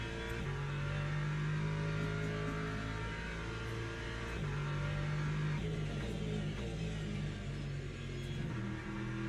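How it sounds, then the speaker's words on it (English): Race car engine in the Le Mans Ultimate sim, running an ELMS race in wet conditions at Imola, holds a steady loud mid-pitched drone with revs rising and falling and shifting gear throughout, no voices. "I won't rev it out too much."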